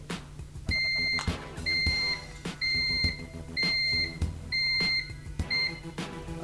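A Chic Smart S1 hoverboard beeps repeatedly while calibrating: a regular series of about six short two-tone electronic beeps, evenly spaced, close and clear over a low background hum.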